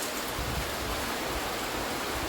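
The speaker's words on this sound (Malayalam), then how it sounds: "മഴ പുറത്ത് തിരുവോണം മഴയിൽ കലാശിക്കുന്നു ഭയങ്കര മഴയാണ്" Heavy, steady rain roars as a dense, continuous wash of noise with no pauses.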